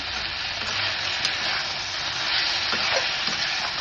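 Spinach curry with green chillies, cumin powder and lentil dumplings fries in a pan with a dense, loud, unbroken hiss and a few faint stirring scrapes underneath.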